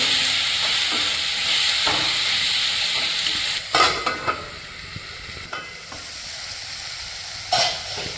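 Two chopped tomatoes fry in a pan with lightly browned ingredients, giving a constant close sizzle broken by several scraping stirs and knocks of a utensil against the pan.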